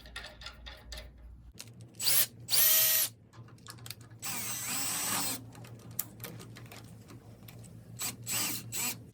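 Electric drill at low speed, fitted with an adapter in place of the hand crank, drives a copper wire stripping tool, giving several loud bursts of whirring broken by short pauses and mechanical clicks, close up with no talk.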